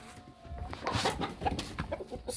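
Several hens clucking inside a hen house, close and overlapping in short, uneven bursts of chatter with no voices over them.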